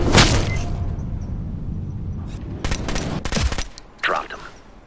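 Video game gunfire from Ghost Recon: Future Soldier: a loud opening shot, then several sharp clustered bursts and cracks over a steady low rumble, with a faint voice near the end.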